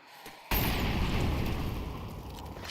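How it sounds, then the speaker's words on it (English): Molotov and flashbang grenades go off in Counter-Strike: a sudden loud burst hits after a brief quiet moment, then a dense roaring, crackling wash of noise holds steady to the end. "Molotov into Canal, flashbang on the stairs."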